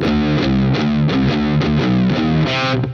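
An electric guitar riff from a song with heavy distortion, steady repeated notes in a driving rhythm, loud and close with no talking.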